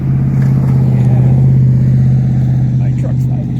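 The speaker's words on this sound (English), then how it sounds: "my truck's loud too." A loud, steady low truck engine drone close by, idling with a deep rumble that holds constant throughout.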